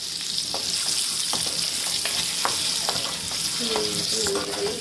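Chilli powder and turmeric fry in hot oil in a pan, giving a steady close sizzle broken by light, regular scraping stirs of a spoon, with no one speaking.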